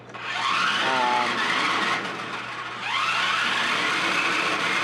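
A Tyco RC Scorcher 6x6 toy car drives indoors with a loud, steady electric motor whine that rises in pitch twice as it speeds up, over continuous rolling and scraping noise.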